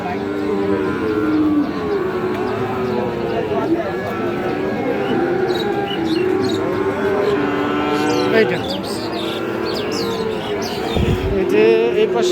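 Cattle moo repeatedly in long, low, drawn-out calls among a busy crowd at a Raniganj cattle market selling Friesian and crossbred bull calves, with people talking and haggling prices throughout.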